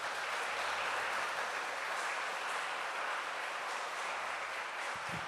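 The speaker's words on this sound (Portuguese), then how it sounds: "Uma salva de palmas, pessoal." A church audience at a Christian talk gives sustained applause, a dense even wash of clapping lasting several seconds, moderately loud and steady, with no speech over it.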